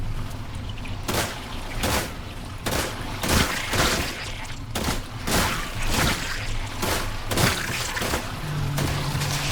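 A sustained firefight erupts in the survival game The Last Caretaker, with a dense run of loud bursts and cracks repeating irregularly over a constant background roar and no voices.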